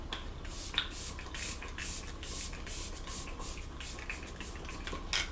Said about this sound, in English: I'm going to spray my face now using the e.l.f. Stay All Night Microfine Setting Mist